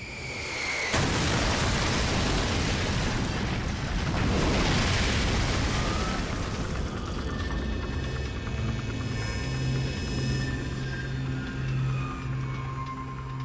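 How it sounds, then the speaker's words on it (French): A huge explosion as an airliner crashes into the town of Lockerbie, a sudden loud blast followed by a long, dense rumbling roar that stays loud throughout, with no talking. "Il s'est écrasé dans une épouvantable explosion."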